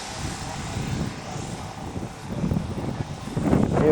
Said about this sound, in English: here's the fastest plane in the world right here.